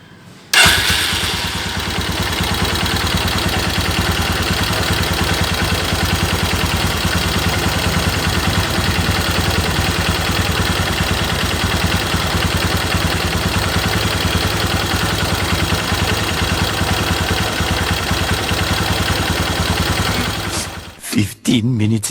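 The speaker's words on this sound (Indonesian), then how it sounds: "Habis itu kita tinggal nyalain mesinnya kurang lebih 10-15 menit." A motorcycle engine starts and then idles steadily without revving for about twenty seconds while engine flush cleaner circulates through the oil, loud and close, with a brief clatter at the end.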